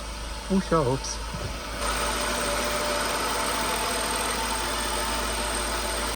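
A car engine runs after repair with its front bumper removed, settling into a steady, even idle hum after a short voice near the start.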